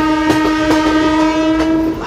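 A passenger train on the Guntur to Dhone route runs past a station in Andhra Pradesh, with a loud sustained horn over rolling wheel clatter and rhythmic clicks.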